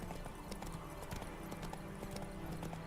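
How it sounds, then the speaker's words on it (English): Horse hooves clip-clopping in a steady rhythm during an evening ride in The Witcher 3: Wild Hunt, faint and even, over quiet game ambience. "So now for a nice evening ride into the sunset with Roach and a griffin head"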